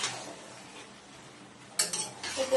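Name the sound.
stirring chilli chicken with gravy in a pan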